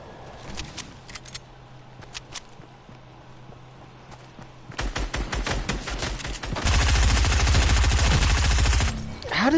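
Fortnite SMG gunfire: scattered single shots at first, then rapid loud bursts building to a dense sustained stream of fire, close and alone with no talk.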